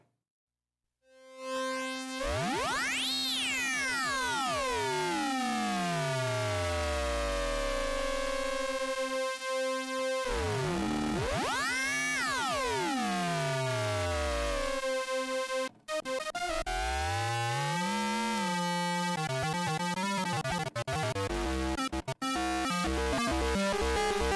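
Harsh, metallic electronic tones with clashing overtones sweep up and down and warble continuously, a loud, dissonant ring-modulated drone with gliding pitches from a Behringer Odyssey synthesizer.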